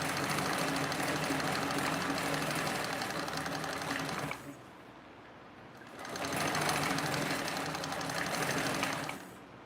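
Sewing machine with a walking foot stitching a 1/8 inch seam allowance, running in two steady bursts of fast, even whirring with a short pause between them, close and fairly loud.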